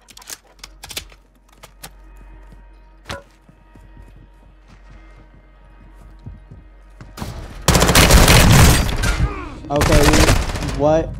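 P90 gunfire in Call of Duty Warzone 2, scattered sharp shots and clicks that give way to a dense, loud stretch of rapid automatic fire near the end.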